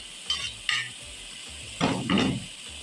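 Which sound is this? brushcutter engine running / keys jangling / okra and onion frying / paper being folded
okra and onion frying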